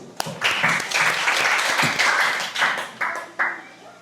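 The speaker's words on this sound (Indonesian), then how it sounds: "lagi tepuk tangan buat kelompok 7" Classroom group applauding a student role-play team, several seconds of brisk clapping with a few sharp individual claps standing out near the end.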